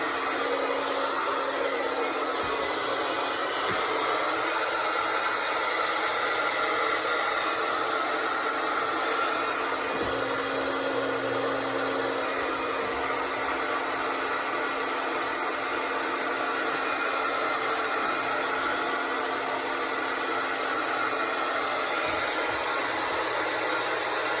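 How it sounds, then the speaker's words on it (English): A heat dryer blasts continuously up close to flash-dry wet knockdown drywall texture on a small patch, with a loud, constant rushing hiss and whine that never lets up. "Then I like to hit it real quick with heat dry, just kind of flash dry that wetness."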